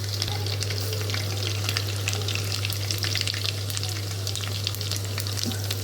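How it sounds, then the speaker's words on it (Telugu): Close, continuous sizzle of cumin and curry leaves frying in hot oil for tempering, a dense crackling hiss with occasional stirring, steady throughout. "చక్కగా కొంచెం ఎగాలి, తాలింపు కదా, ఎంత వేగితే అంత టేస్టీగా ఉంటుంది"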